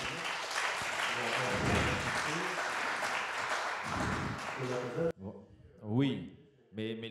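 Applause rises from the audience during a debate on representative democracy, a dense clapping wash for about five seconds before it breaks off and a voice takes over.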